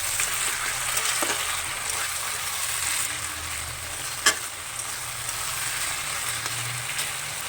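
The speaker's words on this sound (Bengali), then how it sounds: "এটা একটু ভেজে নেব পাঁচ মিনিটের মতন এটাও ধনে পাতাটাও দিয়ে দিছি আর একটু ভেজে নিয়ে নামিয়ে নেব" Flat bean paste with coriander leaves fries in a pan with a steady, even sizzle throughout, broken by a single sharp utensil clink partway through.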